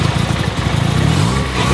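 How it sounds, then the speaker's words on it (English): A 1987 Mazda RX-7 engine, close up, idling with a busy, rapid pulsing note that rises slightly with a light throttle blip, with no one talking. "What does it sound like when you hit the throttle a little bit?"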